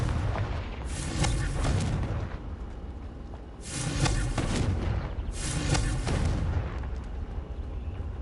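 Fiery Confringo spell blasts from Hogwarts Legacy burst three times in succession, each a loud, broad explosive whoosh lasting about a second, with rumbling tails between them and no talking.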